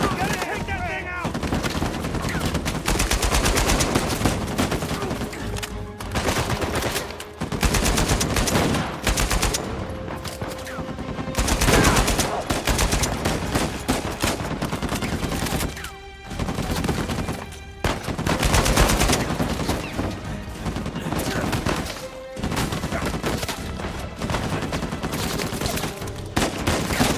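Mounted turret gunfire in the action game Uncharted 4: A Thief's End, long loud bursts of rapid machine-gun fire with brief gaps, continuing for nearly half a minute amid game sounds.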